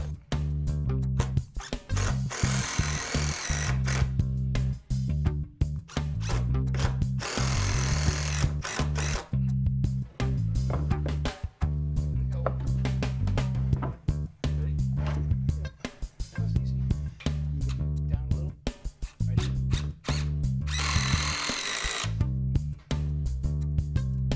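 Power drill driving screws into a wooden floor joist during foundation repair on an old house, heard as repeated loud bursts of whirring and grinding across the stretch, with short gaps between bursts.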